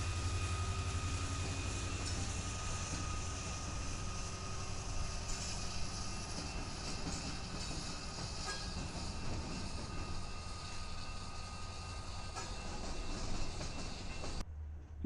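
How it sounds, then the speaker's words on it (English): CPKC locomotive 4134 rolls across the diamond at TNO Junction, a steady, fairly faint rumble and drone of the train that holds evenly throughout with no talking. "we have a CPKC 4134 crossing the Diamond"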